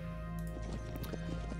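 Horse team unit in the wargame Decisive Campaigns: Ardennes Offensive, with hooves clip-clopping in a steady, close rhythm over a constant low hum for under two seconds.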